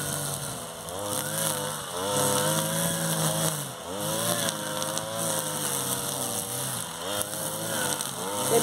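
A petrol brush cutter clearing vegetation around a house whines loudly and close by, its pitch rising and falling repeatedly as the throttle is worked.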